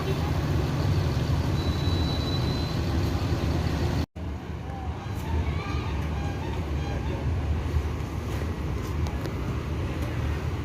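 A Gumarang Jaya intercity bus pulls out of a bus terminal bound for Jakarta, its steady engine rumble and surrounding traffic noise continuous and fairly loud, with voices talking over it and a brief dropout partway through.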